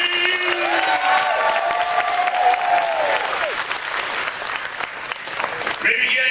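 A crowd of audience members applauds and cheers loudly and steadily, with a voice talking over the clapping throughout.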